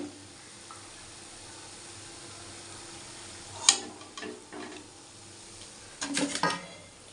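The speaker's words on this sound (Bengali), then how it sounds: "কতগুলো বড়া ভাজা হয়ে গেছে এইভাবে সব আমি ভেজে ভেজে তুলে নেব" Bengali lentil fritters (bora) for pitha frying in hot oil, a low steady sizzle with occasional brief clinks of a utensil against the pan, close and fairly quiet.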